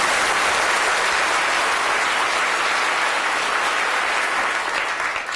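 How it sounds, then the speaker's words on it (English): Sustained applause from an audience fills the room, a dense, steady wash of many hands clapping at close range for the full stretch, tapering only slightly at the end. "A big round of applause, please."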